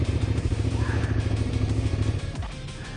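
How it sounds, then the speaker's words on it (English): Suzuki SV650 motorcycle engine running steadily on a race track during a track day session, a loud continuous low drone with constant rumble and mechanical clatter that eases slightly near the end, close to the microphone. "The bike is running fantastic."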